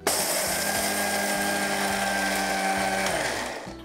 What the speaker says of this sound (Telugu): ఒకసారి మిక్సీ పట్టి మీకు ఆ పౌడర్ చూపిస్తాను